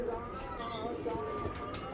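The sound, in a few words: pigeons cooing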